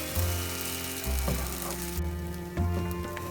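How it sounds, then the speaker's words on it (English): Dhokar dalna, a Bengali lentil-cake curry seasoned with asafoetida, sizzles and is stirred in a pan over low to medium heat, with steady frying hiss and scraping strokes of the spoon recurring every second or so, close and moderately loud. "Keep stirring until it is dry, but make sure it is on low to medium."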